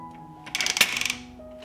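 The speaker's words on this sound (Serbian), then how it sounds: "Zatvorit ću ekspres lonac" A pressure cooker lid is closed with a brief, close metallic clatter of rattling clicks that lasts under a second.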